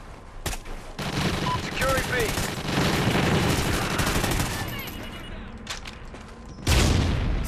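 Rapid bursts of automatic gunfire and booming shots ring out in a Call of Duty Ghosts multiplayer match on the Whiteout map, loud and dense with brief pauses, with someone talking over the shooting.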